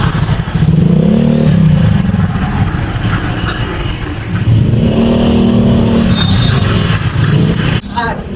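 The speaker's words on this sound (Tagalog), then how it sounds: "Halos hindi gumagalaw ang traffic sa side na ito." Heavy, nearly stalled traffic on EDSA in Manila during a sudden protest, a loud, continuous rumble of idling and revving engines close by, with swelling motor drones and rattles, and voices faintly mixed in.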